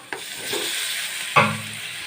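Chopped tomatoes sauté with garlic paste, hissing and sizzling in a hot pan, with a brief scrape of stirring and a sharp clink of a utensil against the pan.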